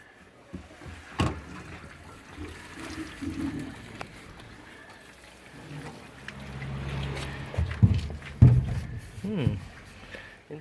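Water is poured and sloshed into a rusty turbocharger from a Renault Fuego to rinse it, gurgling and splashing unevenly, louder toward the end.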